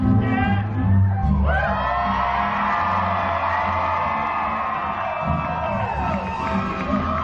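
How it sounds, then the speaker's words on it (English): An audience at a burlesque fan dancer's performance erupts in loud cheering, whoops and yells, a sustained wall of crowd noise with shouting voices that holds for several seconds. "The crowd once again wild"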